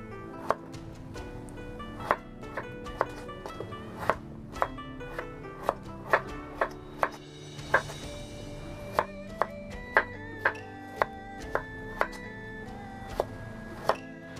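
A knife chops through chayote on a cutting board in a steady series of sharp, close knocks, about two per second, with no talking.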